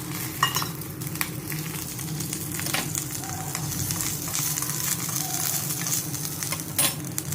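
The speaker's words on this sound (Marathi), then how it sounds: "तर मी साईडला तोंडी लावायला म्हणून 1-2 मिरच्या मध्ये चिरून घेतल्यात. अगदी थोडंसं तेल घालून." Halved green chillies fry in a little oil and give off a steady, close sizzle, with occasional clinks of a spoon stirring in the pan.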